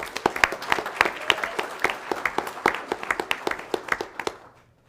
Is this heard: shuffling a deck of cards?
no